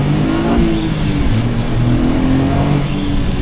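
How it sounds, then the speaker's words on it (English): Toyota GR Corolla engine heard from inside the cabin, a loud, steady mid-pitched drone with a slight rise and fall in revs throughout, no talking. "From in cabin, you hear a lot of engine noise, which is actually good."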